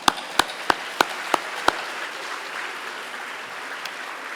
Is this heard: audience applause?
yes